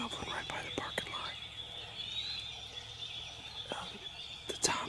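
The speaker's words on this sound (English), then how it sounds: "I got a tom gobbling right by the parking lot." A wild tom turkey gobbles near a parking lot during Indiana turkey season, a faint distant call amid outdoor ambience, with soft whispered talk close by.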